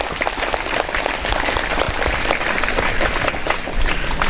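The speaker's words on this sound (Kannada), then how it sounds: "ಒಂದು ದೊಡ್ಡ ಚಪ್ಪಾಳೆಯ ಮೂಲಕ ಅವರಿಗೆ ಅಭಿನಂದನೆಗಳನ್ನು ಎಲ್ಲರೂ ಸಲ್ಲಿಸಬೇಕು." Applause from a large audience at an International Yoga Day celebration, a dense, steady burst of clapping that holds strong throughout, with no voices over it.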